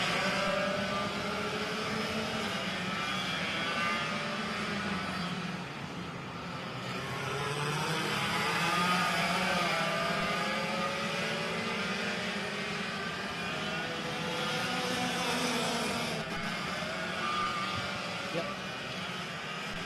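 Senior VLR racing karts run at speed around the Sonoma circuit, a continuous layered engine drone rising and falling as several karts pass, steady and fairly distant with no talk.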